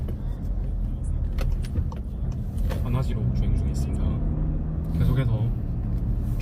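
A car cruising along national road 6 in Incheon, running beside the Gyeongin Expressway: steady low road and engine rumble throughout, with someone narrating over it.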